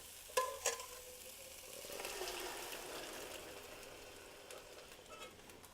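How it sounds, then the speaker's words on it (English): Soupy beans are added to a frying pan: a couple of sharp clinks, then a faint, steady sizzle and bubbling that fades gently over several seconds. "What you are going to do at this point is add your beans."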